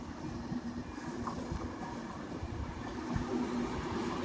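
A Virgin Trains Class 390 electric train rolls slowly into a platform at London Euston, a low steady rumble with faint wheel clicks and a soft tonal hum under the station ambience.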